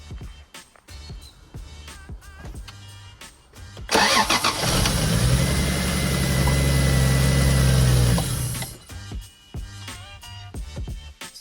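A turbocharged Lexus engine cranks briefly and catches with a loud burst at about four seconds, runs at a high roar for several seconds, then drops away, with clicks and handling noises around it.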